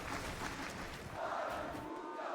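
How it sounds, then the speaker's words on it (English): A large arena crowd at a Fortnite FNCS Global Championship cheers and roars steadily, a dense, continuous wash of voices at moderate distance with no single voice standing out. "The crowd just constantly cheering for anybody on the MA or Havoc squads"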